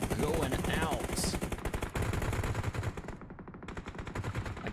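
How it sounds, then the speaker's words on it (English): Dense, rapid bursts of gunfire and mortar blasts rattle without a break through a PUBG Mobile match, loud and close, with faint speech underneath. "More mortars are going out."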